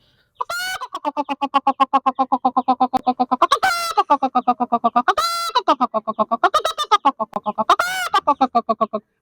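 A voice imitates a hen cackling after laying an egg, a loud, fast, rhythmic run of clucks that rises into several higher squawking peaks, continuous for about nine seconds.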